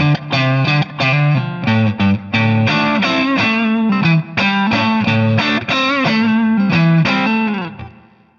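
Heavily distorted electric guitar on the neck pickup through a Line 6 Helix, playing chunky chords and riffs with brief gaps, warm and thick in tone, loud and close, ending on a fading ring.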